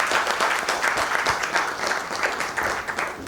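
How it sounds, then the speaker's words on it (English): A conference audience gives a steady round of applause welcoming a speaker on stage, dense and continuous clapping from many hands at moderate loudness, with no talking over it. "Let's welcome him with a big round of applause"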